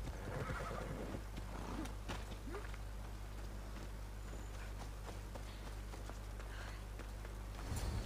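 A horse in the Assassin's Creed Odyssey video game whinnies, and its hooves clip-clop under a steady low in-game hum, with a fresh burst of noise right at the end.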